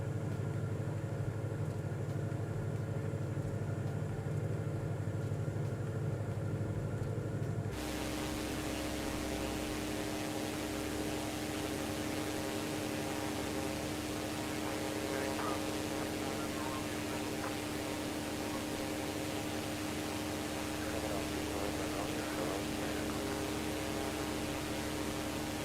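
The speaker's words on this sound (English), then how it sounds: "this airplane with its prop just sounds like an angry weed whacker" Propeller airplane engine in Microsoft Flight Simulator cruising at about 3,500 feet over Italy, a steady, buzzy drone that shifts in tone partway through and then holds unbroken.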